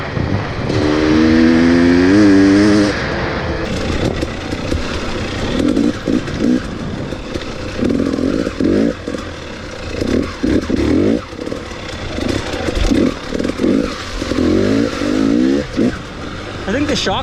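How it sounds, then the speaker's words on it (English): A 2018 KTM 250 XC-W TPI two-stroke dirt bike revs and accelerates on a ride: a loud, close, sharp rising engine note, then choppy bursts of throttle with wind buffeting under it. "But you can hear it's still got that two-stroke hit."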